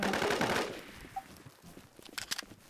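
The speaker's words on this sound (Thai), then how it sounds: "ยิงกันเยอะมาก" Heavy automatic gunfire in a multiplayer shooter set around Berlin and Tokyo bursts loudly at first, then fades into scattered, rapid shots and pops trailing off nearby.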